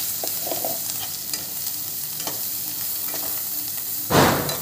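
Spice masala sautéing in hot oil for misal pav, a steady close sizzle with scraping stirs throughout and a louder burst of hissing near the end; no talking.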